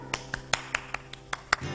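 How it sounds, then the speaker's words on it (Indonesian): Sparse, uneven hand claps at an online children's Sunday school church service, about eight separate sharp claps over under two seconds, close and dry rather than a full crowd. "Ayo semuanya tepuk tangan."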